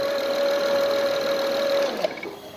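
A 2005 Honda Accord 3.0L engine keeps running with the negative battery cable disconnected, a steady close idle with a high whine that cuts off near the end, followed by a small click.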